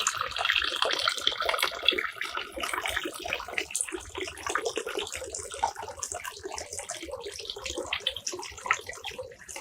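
Water runs into a Japanese garden pool over newly placed rocks, a steady close splashing and trickling flow with a bright, bubbly texture that continues without a break.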